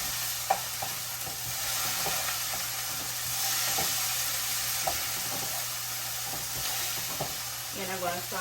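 Garlic sauteing with tender green peppers and translucent onions in a pan for keto spaghetti, a steady close sizzle and hiss with occasional stirring scrapes and clinks throughout, no talk.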